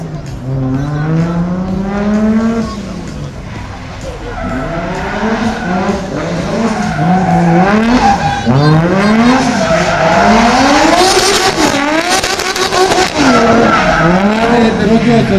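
A modified turbocharged race car with a 400-horsepower engine at a Bucharest motorsport event in 2015 revs hard and rises and falls through repeated throttle swells, while its tires squeal and skid loudly and close by.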